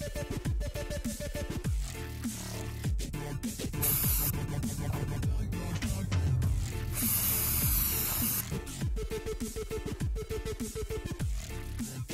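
Hissing bursts of spray paint splattered from a cap onto interior trim pieces, loud and close, alternating with ratcheting mechanical clicks between sprays.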